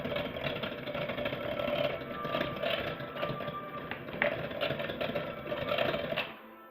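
Electric mixer beating dry ingredients into thick rose velvet cupcake batter, a steady whirring hum with faint tapping against the bowl, cutting off near the end.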